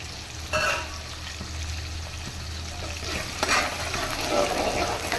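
Onions sizzle and fry steadily in a pan for a fish curry, with occasional scraping stirs of a spatula breaking through the hiss.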